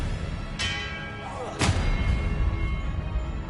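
Expelliarmus spell cast in the Hogwarts Legacy video game: two sharp bright impacts about a second apart, the second followed by a sustained low rumbling swell, over continuous game background.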